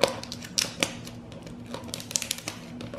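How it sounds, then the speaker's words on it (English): A perforated section on the back of a Yoplait Dippers yogurt package being pulled open, producing a quick series of sharp crackling and tapping snaps of plastic and foil, close and crisp over about three seconds. "It does have a little perforated section on the back, so you can just pull it open like that"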